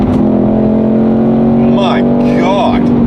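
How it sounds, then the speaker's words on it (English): A 2024 Ford Mustang Dark Horse, a naturally aspirated 500-horsepower manual car, drones loudly and steadily from close by, with two quick rising rev blips as it downshifts. "Let's downshift."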